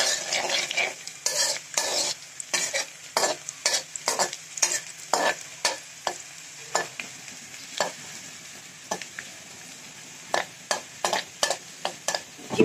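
Chopped onions fry in oil for beef tongue bhuna while a spoon stirs them, rhythmic scraping strokes against the pan repeating every second or so over a constant close sizzle.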